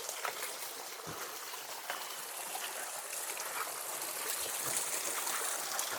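A forest waterfall stream flows steadily with a soft, continuous hiss of rushing water, plus a few faint splashes and knocks, heard alone without talk.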